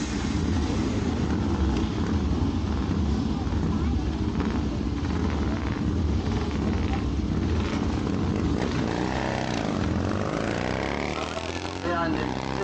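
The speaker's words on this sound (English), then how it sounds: "Number 17 Paul Cairns on his beautifully prepared 4-cylinder 500cc" A four-cylinder 500cc racing motorcycle at the Leighton Hall hill climb gives a steady, loud engine roar that runs the whole time, with a commentator talking over it.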